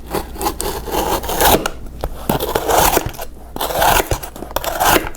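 A CRKT Gusset folding knife with a 3.2 mm thick blade slices through material, giving repeated rough scraping and rasping strokes at close range, several bursts in steady succession with no talk.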